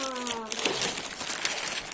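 Crinkling of a plastic bag being handled as a new LEGO police set is opened, a continuous crackly rustle close by, with a voice briefly audible at the start.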